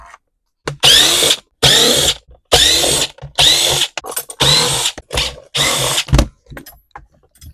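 A power tool buzzes in repeated bursts as it backs bolts out of an Echo leaf blower's housing, roughly six loud close whirring runs separated by short pauses with small clicks between them.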